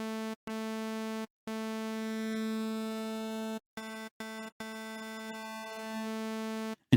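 Synthesizer oscillator set to a multi-wave type, giving a steady buzzy tone rich in evenly stacked harmonics, sounded in several sustained notes separated by short silences and brief cut-offs.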